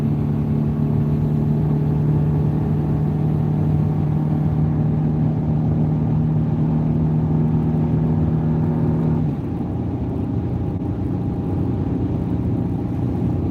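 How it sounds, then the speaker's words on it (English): A truck laboring up a mountain road while hauling hay bales, its engine giving a loud, steady close-up drone that holds for about nine seconds, then drops to a lower, rougher rumble. "this truck is humming and hauling trying to get up this mountain"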